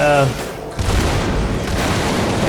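Gunfire in the video game Fallout 76, a loud booming shot followed by dense rumbling bursts and continuing gun noise, close and heavy.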